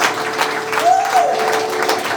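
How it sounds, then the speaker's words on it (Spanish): A church congregation applauds during a Sunday worship service, a steady broadband wash of clapping that holds level throughout, with a faint sustained tone running underneath. "Denle un fuerte aplauso a nuestro Señor"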